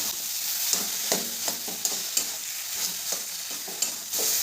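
Potato filling for aloo paratha fries with spices in a pan over medium-low flame, a constant bright sizzle broken by repeated rhythmic stirring scrapes and taps, close and fairly loud.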